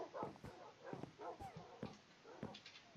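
Tamed dogs in the Minecraft video game whimper, yip and bark in short bursts. The calls come several times at an uneven pace, close and moderately loud over soft game background noise.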